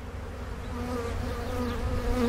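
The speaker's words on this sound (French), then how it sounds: "c'est des abeilles italiennes" Italian honeybees buzzing at a beehive in Chartres, a dense steady hum of many wings close to the microphone, rising slightly in loudness over a couple of seconds with no voices.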